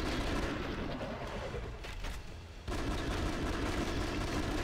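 Gunfire in the video game The Conduit bursts in dense, loud volleys with a brief lull before the shooting resumes.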